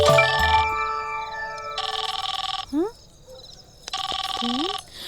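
A telephone rings with repeated electronic bursts of bell-like tones for an incoming call, loud and close, separated by short gaps, while voices talk in between.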